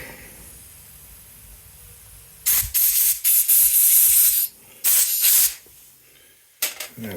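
Compressed air hissing through a Briggs and Stratton lawn mower carburetor, three close, loud sprays of about one to two seconds each, then a short final puff.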